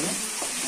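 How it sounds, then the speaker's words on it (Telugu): Mutton liver frying and being stirred in a pan, a loud dense sizzle with a brief scrape of stirring, continuous through the short moment. "బాగా అట్లా వేయించాలి"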